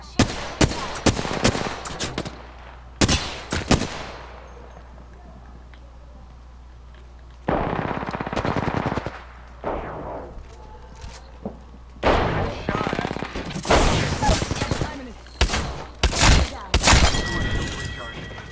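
Bursts of rapid gunfire and shattering impacts in the battle royale video game Apex Legends, with repeated loud volleys separated by short pauses, and players talking over the action.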